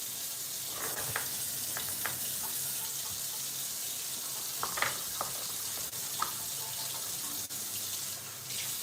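Items being washed under a running kitchen tap, a steady hiss of flowing water with occasional clinks and splashes as things are handled in the sink.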